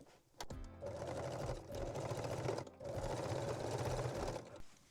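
A sewing machine stitching a small zigzag on a lace bralette, close and steady whirring runs in three bursts separated by brief pauses, with no voices.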